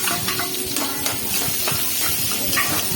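Onions and two green chillies sautéing in hot oil with popped mustard seeds, a steady close sizzle and hiss with occasional stirring scrapes of a spoon in the pan.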